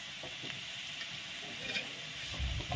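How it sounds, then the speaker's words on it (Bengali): Onions added to hot oil with cumin, a continuous close sizzle with light stirring clatter that swells louder near the end. "এবার দিয়ে দিচ্ছি পেঁয়াজ"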